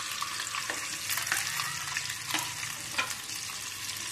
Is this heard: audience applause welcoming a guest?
no